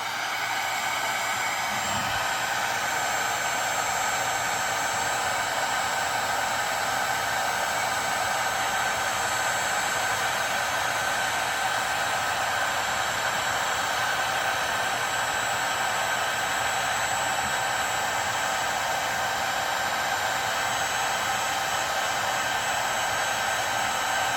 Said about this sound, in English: I'm going to try to heat this from the center out in each direction.